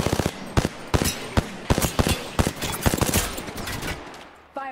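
Gunfire in Apex Legends comes as a loud, close string of rapid shots in quick bursts, with short pauses between volleys and constant background game noise.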